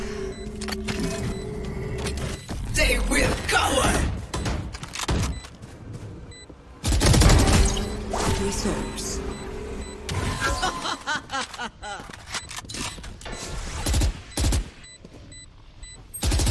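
Gunfire bursts in the video game Valorant, with repeated rapid shots and loud clustered volleys mixed with game effects, a brief quiet lull, then more close shooting near the end.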